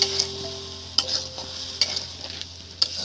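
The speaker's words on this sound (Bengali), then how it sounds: "এবার এর মধ্যে আমি দেখুন অল্প করে জল দিয়ে দিচ্ছি বন্ধুরা।" Shutki dried fish curry with vegetables frying in a pan as a little water is poured in, giving a steady close sizzle broken by a few sharp clinks of a utensil against the pan.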